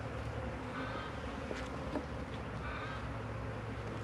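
A honeybee swarm being moved into a hive, a continuous faint buzzing hum of many bees close by, with individual bees droning past now and then over the steady drone.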